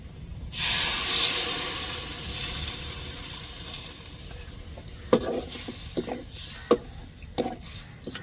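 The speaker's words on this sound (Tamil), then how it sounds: "இப்போ தேங்காய் பால் சேர்த்துக்கிடுவோம்." Coconut milk poured into a hot pan for a fish curry, a loud sudden sizzle and hiss that gradually settles, followed by scattered stirring scrapes and clinks.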